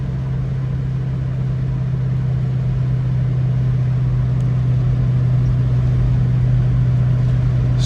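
A 1967 Ford Mustang fastback with a 289 V8 and manual gearbox runs with a steady, loud low engine hum, an even drone heard alone throughout.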